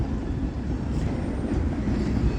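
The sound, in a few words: Union Pacific 1996 locomotive leading manifest train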